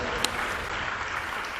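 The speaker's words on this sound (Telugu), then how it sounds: "చప్పట్లు కొట్టి దేవుని స్తుతిద్దాం." A church congregation clapping in praise during a sermon, a brief dense burst of many hands heard fairly close and loud.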